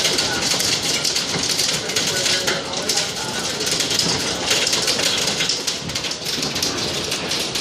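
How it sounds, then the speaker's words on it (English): A bad hailstorm pounds down in a dense, loud clatter on nearby surfaces, with rumbling undertones, sustained throughout while a voice can be heard beneath the roar. "This is bad hail."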